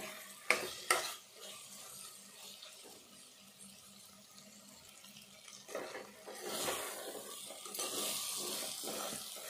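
Tomato and moong dal frying in a pan for an egg curry, a soft sizzle with intermittent stirring scrapes and clanks, growing a bit louder and busier toward the end.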